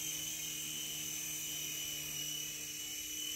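A T2M Spark SX radio-controlled helicopter flies with a steady, high-pitched whine of its motor and rotor, continuous and even throughout with no voices.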